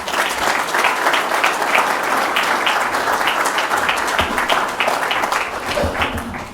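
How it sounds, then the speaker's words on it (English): Sustained applause from an audience at a talk event welcoming a speaker to the stage, a steady wash of many hands clapping throughout with no voices standing out. "Everyone, give him a round of applause."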